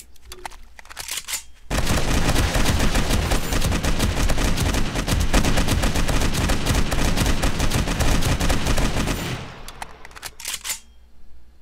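Gunfire using AP ammo in 7 Days to Die comes as one long, loud, continuous automatic burst lasting several seconds. It starts abruptly, then tapers and stops, with quieter moments before and after.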